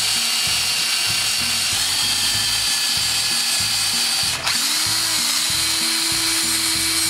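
Drilling out a broken bolt with a power drill: a loud, steady whine with a rhythmic low chatter from the bit, a brief dip mid-way, then a slightly higher-pitched grind as it continues, close by.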